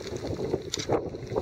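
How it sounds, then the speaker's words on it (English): Wind buffeting outdoors beside a wobbling stick marking a rat trap, a steady rough rumble with gusty swells throughout, close to the microphone and with no one talking. "So that's just the wind doing that."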